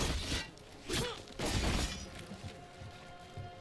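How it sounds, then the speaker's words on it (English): Wooden barrels shattering in the fantasy action game Dragon Age The Veilguard, three loud crunching smashes in quick succession, each followed by scattered debris, over quiet ambient game music. "Nobody pay attention to the elf smashing barrels for no apparent reason"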